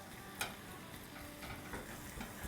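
Chicken thigh mince fries with spices in a pan, a soft, steady sizzle broken by faint scraping stirs and a few light taps on the pan.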